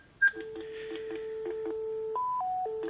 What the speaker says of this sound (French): Donc là, vous avez le La avec le téléphone.